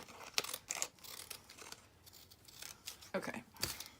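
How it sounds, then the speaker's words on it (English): Decal scissors snip through paper during crafting, several short crisp cuts spaced irregularly and heard up close, with faint rustling of paper between them. "And I decided to use the decal scissors."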